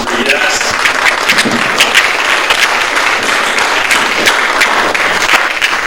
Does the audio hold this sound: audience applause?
yes